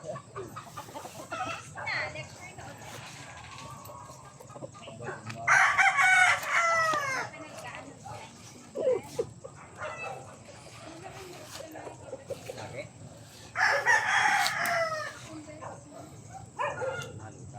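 A rooster crows loudly twice at a chicken coop, with clucking fowl and occasional dog barks nearby and people talking quietly in the background.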